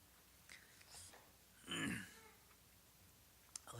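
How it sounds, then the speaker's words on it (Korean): A single harsh cough bursts out near the mic during a Korean church sermon, brief and fairly loud, with quieter breathy sounds around it in an otherwise hushed room. "말을 하려니까 기침이 자꾸 나요"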